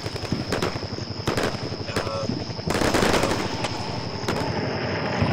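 Rapid machine-gun bursts and scattered rifle shots from a modern military battle in the strategy game Combat Mission Shock Force, a dense continuous crackle of fire that swells louder midway, with faint voices underneath.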